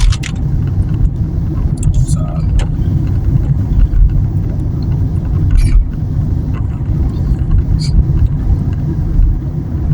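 A car driving on UK roads on a Monday morning gives a steady low interior rumble of engine and tyres, close and continuous, with a few faint clicks and knocks over it.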